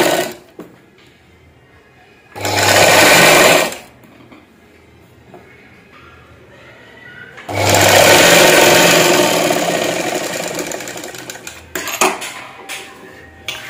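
A sewing machine stitches the back neck of a blouse in two loud, close bursts, a short run followed by a longer steady whirring run, with quiet handling noises between.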